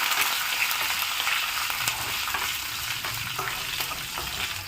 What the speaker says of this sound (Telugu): ఈ పోపులన్నీ వేగాయి కదండి